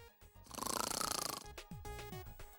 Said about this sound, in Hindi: इतने बुरे खर्राटे।